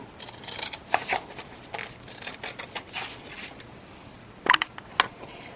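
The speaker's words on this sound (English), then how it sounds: "I'm going to use my scissors" A few crisp snipping cuts of paper with scissors, close by, with a pause between a first cut and a quick pair of snips near the end, over quiet room noise.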